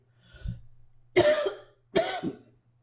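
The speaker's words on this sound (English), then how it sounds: "I got a little coughing to do here." Three coughs close to the microphone, a faint throat-clearing first and then two harsh bursts about a second apart in an otherwise quiet room.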